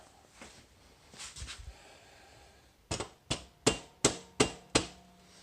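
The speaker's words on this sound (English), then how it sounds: "I will get my little rubber mallet and just kind of tap at it a little bit" A small rubber mallet taps a motorcycle chain adjuster during a chain adjustment: six sharp, evenly spaced knocks in quick succession, close and clear, after some softer handling noises.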